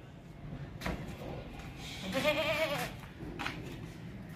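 A tall goat for sale at a livestock market lets out a clear nasal bleat mid-clip, flanked by a couple of short knocks and faint background voices.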